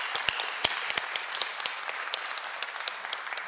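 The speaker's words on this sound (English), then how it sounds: "Let's give them a round of applause." Audience applause at a BPW meeting: a room of people clapping, with scattered sharp individual claps standing out over a steady, moderately quiet patter that continues evenly throughout.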